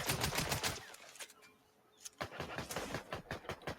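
Rapid bursts of automatic gunfire in Fortnite ring out loud and close in sharp, clustered volleys, falling briefly quiet midway before a fresh string of shots resumes.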